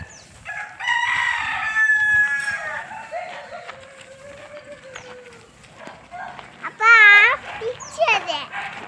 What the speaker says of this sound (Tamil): அங்கே பாரு உன் கோழி ஃப்ரெண்டு உன்னை பார்க்க போரு